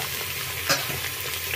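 Mixed vegetables frying in a pan for a prawn sabji, a short steady close sizzle with one brief scrape or clink midway, no talking.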